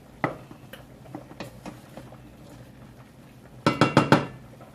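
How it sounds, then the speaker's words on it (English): A utensil stirring spaghetti ingredients in a pot, with scattered metallic scrapes and clinks, then a closer burst of several quick knocks against the pot's rim. "I'm going to stir that up in there."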